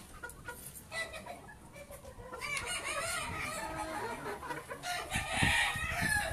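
A 13-year-old breeding rooster crows amid clucking chickens at a poultry yard in Trujillo, Peru, with an outdoor farmyard bustle in the background.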